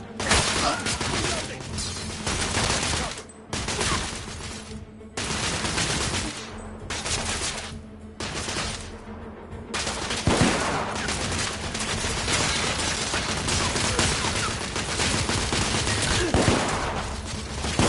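Heavy sustained gunfire from the video game The Order 1886, dense automatic bursts and volleys rolling continuously with brief gaps, loud and close, with occasional shouted voices mixed in.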